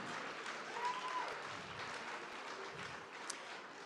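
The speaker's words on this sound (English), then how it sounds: "Give yourselves a round of applause" Crowd applause filling a large room, a steady wash of clapping at moderate distance without a break.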